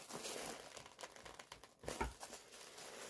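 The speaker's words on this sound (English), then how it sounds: "Let me see if I can get the paper out from under her skirt." Paper crinkles and rustles as it is pulled out from under the skirt of a Frozen 10th anniversary limited edition doll, close and irregular, with no one talking.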